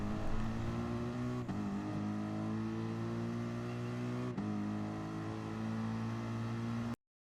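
Racing cars accelerating at a race start in the video game Gran Turismo Sport: a loud, sustained engine drone with rising tones and two quick gear-shift dips, ending abruptly.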